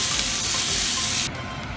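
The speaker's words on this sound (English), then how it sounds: "I'm putting this into a hot skillet." Green peppers, onions and garlic hitting a hot skillet, a loud close hissing sizzle that holds strongly for over a second and then drops to a quieter simmering crackle, no voices.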